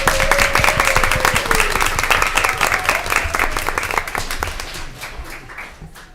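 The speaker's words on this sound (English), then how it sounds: "can I ask everyone to give our students one more round of applause?" A school board meeting audience gives student performers a dense round of clapping that holds steady and then gradually thins and fades over several seconds.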